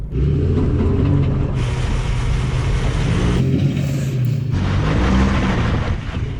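A Ford Transit van and a Ford Ranger pickup rev hard in a tug of war, a loud, sustained engine roar with a deep rumble and shifting pitch that eases briefly before surging again.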